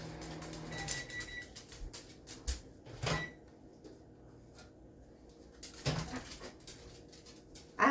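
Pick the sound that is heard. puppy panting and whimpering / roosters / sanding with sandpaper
puppy panting and whimpering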